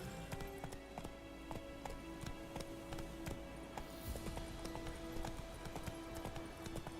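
Hooves of a horse clip-clop in a quick galloping rhythm in The Witcher 3 video game, with faint game ambience behind the steady beat and no talk over it.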